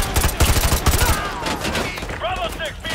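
Rapid automatic gunfire bursts in Modern Warfare 2, shooting into the air in a Brazilian favela, a loud rattling volley that fades into chatter, with voices talking over the end.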